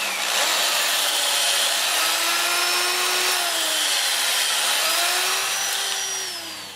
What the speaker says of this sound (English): Run the lathe forward at about